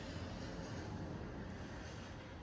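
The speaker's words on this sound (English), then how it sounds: "That airplane was confirmation too." An airplane drones overhead as a faint, steady, distant rumble that holds constant throughout, with no voices.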